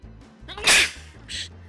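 A single sharp human sneeze bursts out mid-clip, loud and close, with a faint quieter echo of breath after it over low background hum.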